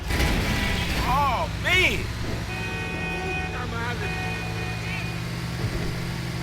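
A city bus rolls along in GTA V, its engine drone steady under someone talking, with a few short horn toots and brief tonal chirps cutting in.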